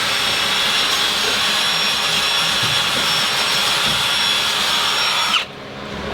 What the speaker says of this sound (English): I'm wire wheeling away all your horsepower